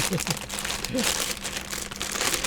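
Toy packaging for a Godzilla kaiju figure being torn and crumpled by hand, a close, continuous crinkling and ripping over about two seconds, with faint voice-like sounds underneath.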